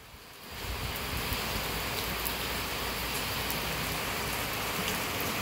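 Steady rain falling outdoors at night, a dense even hiss of drops on surfaces that swells up after a quieter start and then holds constant, with no talking over it.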